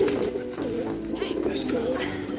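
A male Kalanka pigeon coos in low, throaty rolling phrases close at hand, with rustling and faint voices in the background.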